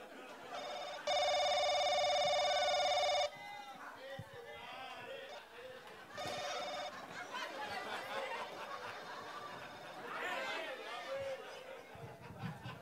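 A telephone ring is imitated on an electronic keyboard, two bursts of bright, trilling electronic tones, the first about two seconds long and the second shorter, amid lively chatter and voices in a crowded, noisy outdoor stall.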